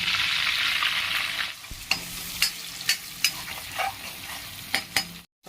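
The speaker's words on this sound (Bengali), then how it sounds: "এই তেলেই দেবো কিছু লঙ্কা, কুচনো রসুন ও কুচনো আদা।" Chillies, chopped garlic and ginger drop into hot oil left from frying prawns, giving a bright sizzle at first that settles down, then a string of sharp spatula taps and scrapes against the pan.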